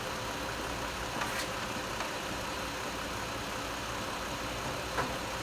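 Car engine idling on propane during a smog-failure check for a P0430 catalyst efficiency fault, a steady, faint, even idle hum with no talk and a couple of tiny clicks.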